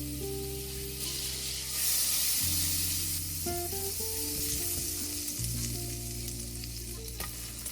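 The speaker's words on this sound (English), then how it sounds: "I'm going to set it aside while I saute the vegetables in butter" Ginger, garlic and other vegetables sautéing in butter in a pan, a steady close sizzle and hiss with a brief louder flare, under faint background music.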